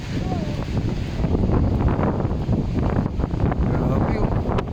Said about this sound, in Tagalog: Lakas hangin.